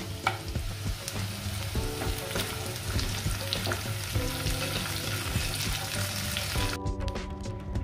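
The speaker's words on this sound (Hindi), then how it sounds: "10-11 बादाम डाल रही हूँ।" A handful of almonds fry in a pan over a low gas flame, giving a close, busy sizzle with frequent crackles and stirring scrapes that cut off abruptly near the end, with no voices.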